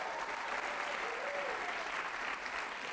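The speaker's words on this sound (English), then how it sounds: "Give yourselves a round of applause for coming out tonight." Audience applause fills the room at a live storytelling show in New York City, steady and dense clapping sustained from start to finish with no pause.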